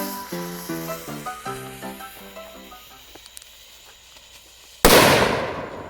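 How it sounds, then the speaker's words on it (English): An M80 firecracker bursts in a single loud, sharp blast near the end, after a stretch of musical tones, its roar trailing off over about a second. "here goes the M80 firecracker"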